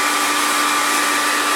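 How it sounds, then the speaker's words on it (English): A hair blower roars steadily and loudly up close as it clears chaff off shelled red kidney beans, an unbroken airy whoosh with a faint whine and no speech. "Then, we borrow the Wade's hair blower"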